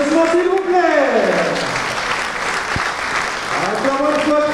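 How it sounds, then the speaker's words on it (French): Strong applause from a crowd at a political address after a presidential re-election, continuous clapping filling the hall while a voice speaks over it at the start and end. "Tous vos applaudissements, s'il vous plaît."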